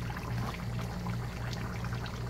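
Water is poured spoon by spoon into a cooking pot of turkey stew, a soft steady pouring and trickling sound up close with a low hum underneath.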